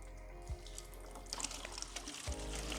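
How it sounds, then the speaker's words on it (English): Star San sanitizer is dumped out of a brewing flask into a sink, giving a quiet, fairly steady liquid pour and trickle against a low background hum, with a few brief splashy knocks. "Just dump out that star sand."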